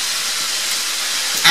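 Bacon sizzling in a pan for a leek and bacon quiche, a loud, steady, broad hiss and crackle filling the whole moment, with a sharper clatter right at the end.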